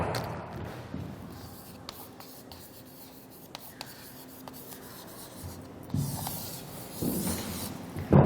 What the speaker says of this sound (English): Let me write his name on the board.